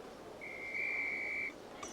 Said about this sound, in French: Coup de sifflet